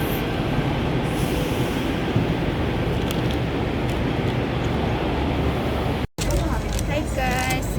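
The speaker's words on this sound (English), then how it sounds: "nandito ko ngayon nakasakay sa tram." Seen from inside a moving Hong Kong tram, a steady loud rumble of wheels on rail and a rattling carriage fill the scene, with faint squeals, a sudden brief cut near the end, and then voices over quieter running noise.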